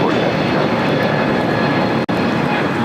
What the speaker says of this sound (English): 1524 taking off to JFK on the A321 Neo.